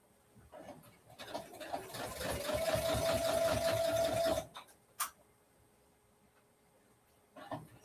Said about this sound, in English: this is when I cuss about my sewing machine, trying to go over all the different hoop things, the lumps